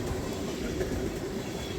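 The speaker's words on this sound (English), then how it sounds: "This train also carries petroleum, boxcar loads, and salt hoppers." A freight train carrying petroleum tank cars, boxcars, salt hoppers and auto racks passes nearby, producing a steady low rumble of rolling wheels with faint rhythmic clatter and a sustained hum.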